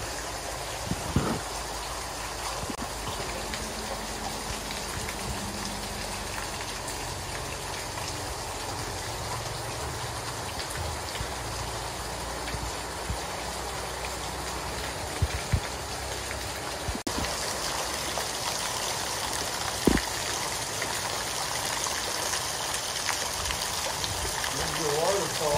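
Heavy rain from a rainstorm on Guimaras Island, Philippines, pours down in a constant dense hiss, with faint distant voices and occasional knocks underneath.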